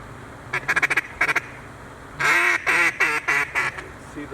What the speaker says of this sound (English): See the ducks? They're at 2 o'clock.